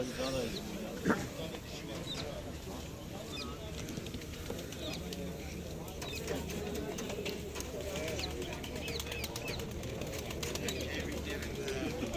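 Pigeons cooing and fluttering at the Edirnekapı open-air bird market, a busy continuous bed of bird calls and crowd murmur with people talking throughout.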